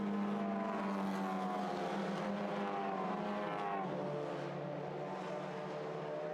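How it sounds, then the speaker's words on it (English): Race cars on track during 2016 qualifying at Imola, engines roaring continuously at a fair distance with shifting, overlapping pitches as cars pass and accelerate. "We've got 10 cars on track at the moment."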